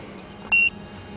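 Harbor Freight car code reader giving a single short electronic beep, close and clear, on a 2002 Ford Expedition.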